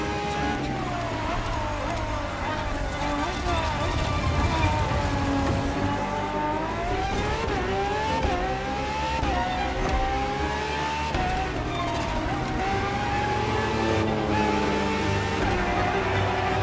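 Ferrari FXXK race car in The Crew Motorfest roaring continuously at high revs, loud and close, with rising and falling engine pitch through gear changes and occasional tire squeal, no talk.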